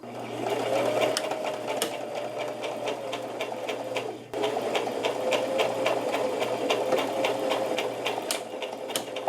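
A sewing machine stitches a seam on a zip-up hoodie, its rapid needle chatter steady and close, with a brief pause near the middle before it runs on again.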